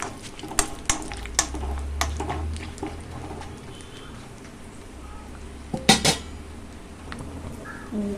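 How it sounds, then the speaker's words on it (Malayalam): Coconut pieces and cashew nuts fry in a pan for payasam, giving a soft, steady sizzle broken by sharp clinks and scrapes of stirring against the pan, close by, with occasional speech. "തേങ്ങാക്കൊത്ത് മുക്കിയിട്ട് ഈ അണ്ടിപ്പരിപ്പും കൂടി ജസ്റ്റ് ഒന്ന് ഫ്രൈ ചെയ്യാം."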